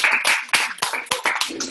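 A small group claps in a quick, uneven burst of close, sharp hand claps over just under two seconds.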